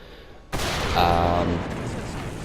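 A tank in War Thunder opens up with its machine gun and cannon together after a short lull, a loud, sustained burst of gunfire with a heavy boom at its start, rattling on to the end.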